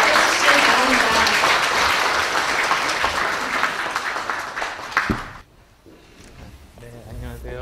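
A crowd at a New Year gathering applauds warmly to welcome a speaker, dense clapping that rolls on for about five seconds before stopping abruptly, followed by a voice speaking.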